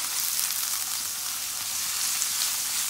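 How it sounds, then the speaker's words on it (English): Seasoning sizzles steadily in a pot as the base for a salted fish stew, a soft, even hiss of frying oil close by with no talking over it. "So now our seasoning was cooking up for a bit"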